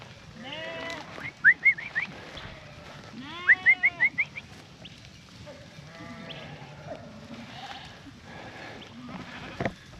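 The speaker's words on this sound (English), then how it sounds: "This is a first for me, moving sheep of any kind in any way" Sheep being moved on foot bleat repeatedly, with several wavering calls close by over low outdoor rumble and shuffling, and a few sharper cries near the end.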